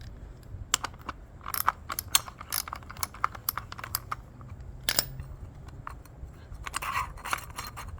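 A 17 mm socket wrench ratchets as it loosens the blade bolt on an Echo edger, giving bursts of quick metallic clicks at close range, some clustered and some isolated, over a low background hum.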